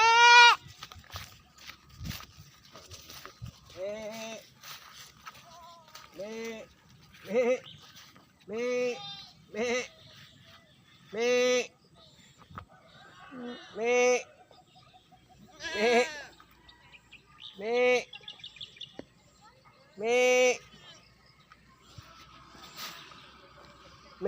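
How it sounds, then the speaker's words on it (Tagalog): Goats on a farm bleat repeatedly, about a dozen distinct calls spaced a second or two apart, moderately near, with quiet outdoor background between them. "Asan yung isang kambing nila?"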